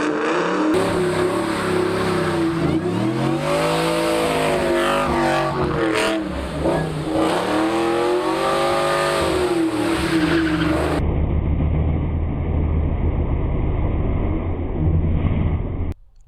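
A car engine roars loudly while tires squeal in long, wavering screeches as it circles close by, then the sound shifts to a steady low rumble.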